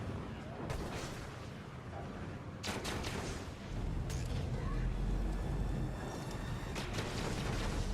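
Heavy booming railgun shots and blasts in Star Citizen hitting a Cutlass ship, several sharp impacts over a continuous rumbling roar, fairly loud and close.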